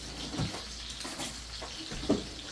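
Steak sears in a hot skillet during a reverse sear, giving a steady frying hiss with a few soft scrapes and clinks as it is shifted around the pan.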